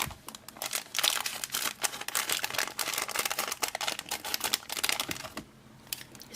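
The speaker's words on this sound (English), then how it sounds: "Let's cut this open" Blind bag plastic package being cut open with scissors and torn, rapid crinkling and snipping bursts close up, crackling irregularly for several seconds before a brief quiet.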